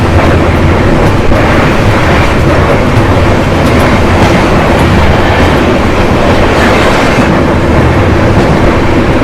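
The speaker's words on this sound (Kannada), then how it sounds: "ಟೋಟಲಾಗೆ ಯಶವಂತಪುರದಿಂದ ಮಂಗಳೂರವರೆಗೂ ಹೋಗುವಂಥ ಟ್ರೈನ್ ಇದು" The Gomateshwara Express, a Bengaluru to Mangaluru train, runs along the tracks with loud, continuous rumbling and rhythmic clickety-clack of the wheels, close and unbroken throughout.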